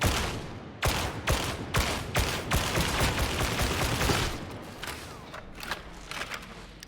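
Rifle gunfire in the video game Warhammer 40,000: Darktide, a rapid series of sharp, loud shots in bursts with brief pauses, the firing thinning into scattered single shots toward the end.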